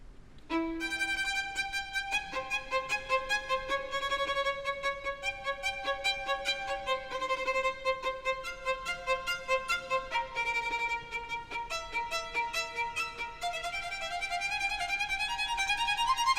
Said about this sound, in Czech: teď zahraje na tyhle moderní housle ukázku z Vivaldiho zimy